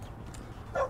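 A dog in the Brazilian video game 171 gives a short, sharp bark near the end of the moment, against steady game background noise.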